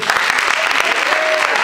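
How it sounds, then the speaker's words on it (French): An audience bursts into loud, dense applause at a youth centre show, many hands clapping close and continuous without a break. "Grand main d'applaudissement, s'il vous plaît."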